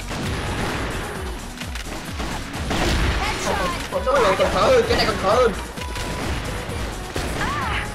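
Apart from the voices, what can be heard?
sniper rifle gunfire in a shooting video game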